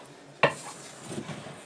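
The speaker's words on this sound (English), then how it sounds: "we're going to fry it until it's brown but not completely cooked" Cornstarch-coated chicken hits a hot frying pan with a sudden close clatter and sizzle, followed by a soft, quiet crackle of frying.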